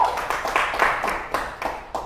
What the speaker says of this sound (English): Let's clap for Grace.